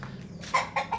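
Rooster in a backyard coop giving two or three short, close clucks in quick succession over a faint low hum.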